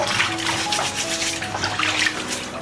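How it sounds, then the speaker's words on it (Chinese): Water runs and splashes steadily as pig snouts are washed in hot water for a second thorough cleaning in a farmhouse kitchen, a continuous close trickle without talk. "洗完1遍了过后要洗第2遍，第2遍要把彻底的清洗干净"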